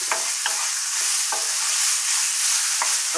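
Chicken frying hard in a pan on high heat as a spring roll filling, a loud, steady sizzle with a few sharp clicks of stirring spread through it, close up and with no voices.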